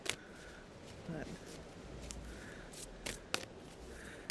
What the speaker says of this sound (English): I think I'll shuffle and then pull,